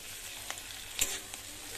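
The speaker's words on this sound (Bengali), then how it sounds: "আদা রসুনটা ভাজা হয়ে গেছে, এবার আমি দিয়ে দিচ্ছি টমেটোটা।" Ginger and garlic sizzle quietly in a hot kadai as tomato is added. A steady soft hiss is broken by a few sharp clinks of stirring.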